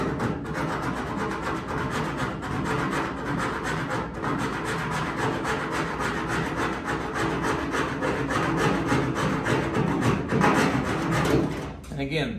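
Steady back-and-forth rasping of a hand saw cutting through body filler along the seam between two car body panels, continuous and close for most of the clip before it stops near the end.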